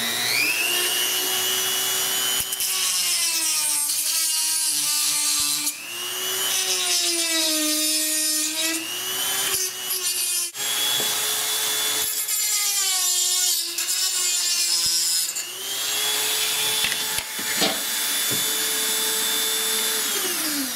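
A rotary tool slices through the plastic top of a battery drill housing being converted to mains power, its loud whine rising and falling in pitch as the cut bogs and recovers, running almost continuously throughout.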